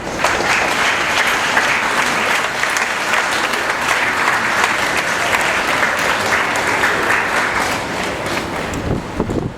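Sustained applause from a church gathering for a prize winner, the class 5 first-rank student, loud and dense clapping that runs without break for about ten seconds, with no voices over it.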